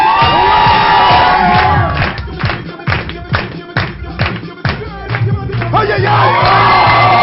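A studio audience at a French anniversary television special applauds and cheers, with loud crowd noise, whoops and children's shouts, rhythmic claps in the middle, and voices rising over it.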